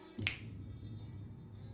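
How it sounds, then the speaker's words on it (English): A single sharp finger snap, close and crisp, followed by a quiet room hum. "I snap my fingers."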